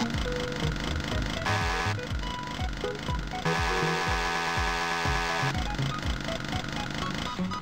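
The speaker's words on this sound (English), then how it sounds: "the chainsaw" The Doom chainsaw, recreated inside the Factorio 1.1 video game, gives a loud, buzzing engine drone that revs in repeating pulses and shifts pitch between sections, with no voices.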